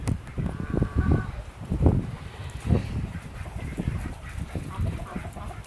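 Ducks in an outdoor animal pen quack and honk in scattered bursts over steady background noise, in a Land O Lakes yard after hurricane wind damage.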